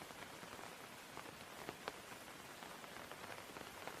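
Rain falls softly in a forest and patters on a coat, a quiet, steady hiss of countless small drops with occasional slightly sharper taps.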